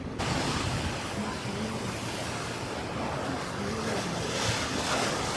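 Ocean waves wash continuously along the shore at a seaside campsite, a loud steady roar of surf mixed with wind buffeting the microphone, with no talk.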